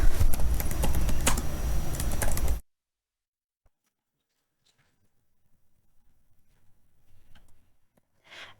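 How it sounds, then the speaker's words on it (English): A dense burst of rapid computer keyboard clicks, fast and steady, then near silence with a few scattered soft taps. "now there you can start typing"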